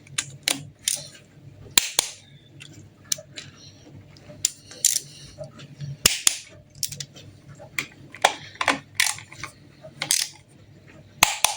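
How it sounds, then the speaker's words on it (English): A torque wrench tightens intake manifold bolts on an engine, giving repeated sharp metallic clicks in irregular clusters, close and fairly loud. "Very handy, this torque wrench."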